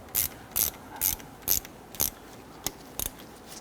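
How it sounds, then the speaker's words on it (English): A hand ratchet tightens a front brake caliper slide pin on a 2006-2014 Honda Ridgeline, giving crisp metallic clicks in a steady rhythm of about two per second, close and distinct against a faint background hiss. "Now as I'm tightening this here, our slide pin is wanting to rotate."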